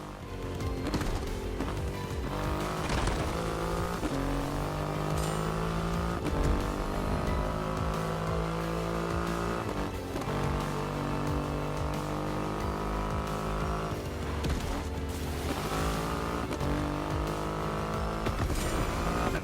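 Engine of a Triumph Rocket 3 motorcycle with a 2.5-liter engine in The Crew Motorfest, droning loudly and steadily with rising and falling revs as it accelerates and shifts, continuous throughout with no talking.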